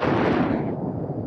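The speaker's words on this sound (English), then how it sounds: "Oh, I seem to have exploded." A single explosion from a Super Nintendo game: a loud, dense blast that fills the whole short clip, with its bright top end fading partway through and leaving a low rumble.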